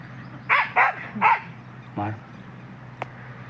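Several sharp dog barks in quick succession, then one more after a pause, fairly close against a quiet background hum.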